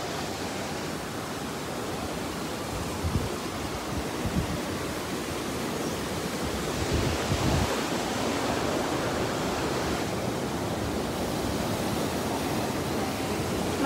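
Rushing water at Datanla waterfall in Da Lat, Vietnam, pours steadily and loudly with a broad, even roar, joined by a few low thumps partway through.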